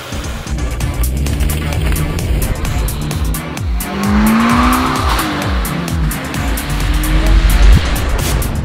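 A loud Toyota GT86 sports car engine revs and roars up close, with rising whines and a brief tire squeal over the rumble.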